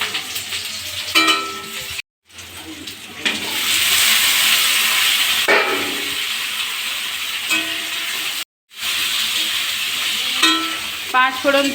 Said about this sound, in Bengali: পটল ভাজা করছে